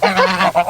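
A goose honks in a quick, loud run of several nasal calls at close range.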